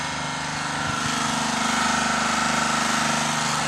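The motor of a brick press machine runs steadily, a loud, close, rhythmic mechanical drone with a fast pulsing thump and no voices.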